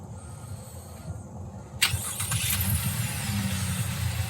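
A 2021 GMC Canyon AT4 pickup engine cranks and catches with a sharp onset partway through, then settles into a steady mid-pitched idle close by, with quiet background before the start.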